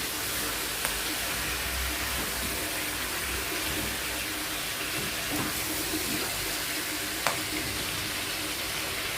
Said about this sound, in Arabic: اروح حاطه له ايه الميه بتاعته